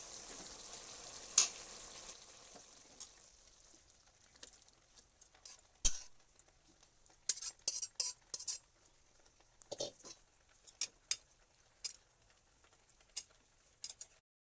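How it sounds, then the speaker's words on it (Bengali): Shrimp and pumpkin stem curry stirred in a pan over a faint sizzle, with soft irregular scrapes and taps of the spoon, quiet and close. "এবার 1 মিনিট নাড়াচাড়া করে এটাকে নামিয়ে নিতে হবে"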